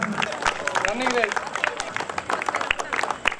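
An audience claps at the prize ceremony of a Samathuva Pongal celebration on the Tirunelveli armed reserve police ground. The clapping is scattered and sharp, and a voice talks over it throughout.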